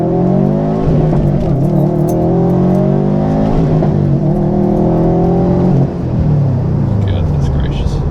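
A 2019 Subaru WRX STI accelerates hard above 4,500 RPM. From inside, the engine drone climbs loud and steady, with a brief dip near the end like a gear change before it pulls again.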